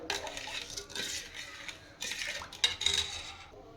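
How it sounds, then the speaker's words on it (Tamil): A spoon stirring sugar into sherbet to dissolve it, with close clinking and scraping against the container in uneven bursts, a few brighter metallic taps standing out over a short stretch. "நல்லா கரண்டியை விட்டு சீனி கரையிற அளவுக்கு நல்லா கிண்டி விட்டுக்கிறணும்"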